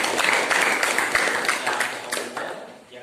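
Applause from a classroom audience, a lively burst of many hands clapping close by at a brisk, even pace, tapering off toward the end, with no speech over it.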